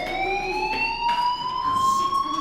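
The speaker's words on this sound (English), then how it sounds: "Hey, do you hear that fire alarm?" A fire alarm rings in the video game Life is Strange, a loud, continuous electronic wail that sweeps slowly upward in pitch and keeps sounding without a break.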